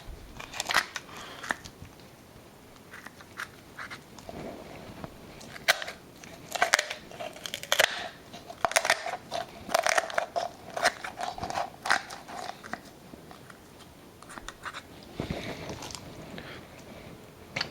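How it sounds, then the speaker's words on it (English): Kitchen poultry shears snip and crunch through a raw chicken alongside the spine, a steady run of close, crisp cuts and cracking bone with small wet crackles between. "Just take some kitchen shears, poultry shears, whatever, and I like to cut it right alongside the spine."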